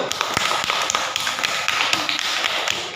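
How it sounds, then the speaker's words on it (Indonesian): Students in a classroom clap for a presenting group, a brisk scatter of sharp hand claps that continues steadily at close range without talk. "Tepuk tangan untuk kelompok 1."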